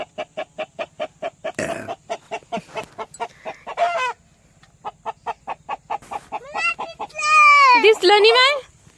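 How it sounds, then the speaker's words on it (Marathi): Hens cluck in a small coop beside a village lake: close, rhythmic clucks in steady bursts, ending in a louder, drawn-out rising call, with voices talking between. "कोंबडी आहे कोंबडी."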